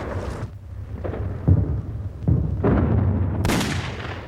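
Heavy booming explosions from a wartime bombing raid on an airfield, several deep blasts in quick succession, loud and rumbling, rising to a sustained roar at the end, with no voices.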